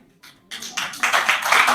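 An audience at a poetry recital, a kavi sammelan in Bhopal, breaks into clapping that starts with a few scattered claps and swells quickly into steady, dense applause close by.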